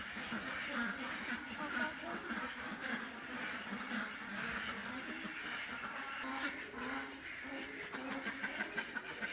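A flock of ducks on an egg-laying duck farm with about 260 birds keeps up continuous overlapping quacks. The sound is moderately distant and busy, with faint voices now and then underneath.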